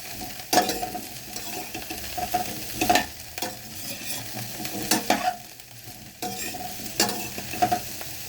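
Grated ginger stirred through cauliflower sabzi in a pan, a low sizzle under periodic spoon scrapes and clinks against the metal every second or two, close and moderately loud.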